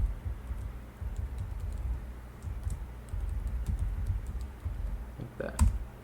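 Someone types a terminal command on a computer keyboard nearby, a run of quick, soft key clicks with a slightly louder keystroke near the end, alone without talk.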